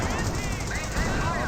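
A .30 cal machine gun emplacement firing in the strategy game Company of Heroes, a dense continuous rattle of rapid shots in the game mix over a short stretch.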